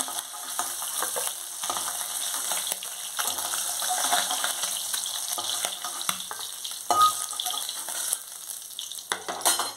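Fish frying in hot oil for a home-style curry, a continuous crackling sizzle close by with spatters and bursts of popping, no voices over it.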